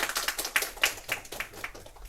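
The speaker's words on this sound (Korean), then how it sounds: "우리가 박수로 맞이하겠습니다" An audience at a university lecture on the US presidential election claps to welcome a visiting professor, a short burst of moderately close, uneven hand claps that softens after about two seconds.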